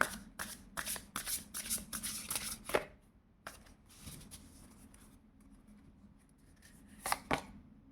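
Tarot cards shuffled by hand in quick, close riffling bursts, a brief pause, then a couple more shuffles near the end.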